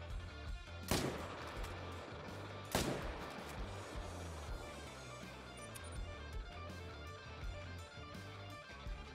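Gunfire in the hunting video game Call of the Wild: two sharp, loud rifle shots spaced a couple of seconds apart over a steady background ambience, with no talking.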